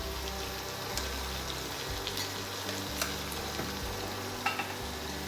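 Biryani with biryani masala stirred in a frying pan, a steady sizzle with faint scraping and a few soft knocks of the utensil against the pan throughout.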